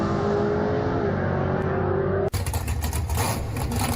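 A drag racing car launches at Atco Dragway: a loud, steady engine drone cuts abruptly into a harsh, broadband roar as the car leaves the line, heard from close by.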